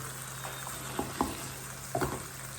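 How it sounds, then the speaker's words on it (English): Wild duck pieces simmering in a hot pan, a soft continuous sizzle with a few brief pops and clicks, close and fairly quiet, with no talk. "we're going to let these sit here and simmer about 2 minutes or so"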